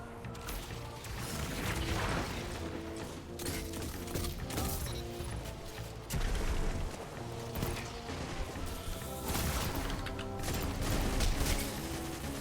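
Gunfire in a shooter video game crackles in bursts of rapid shots and mechanical clatter, loud and close, with busy game noise between the volleys and no speech.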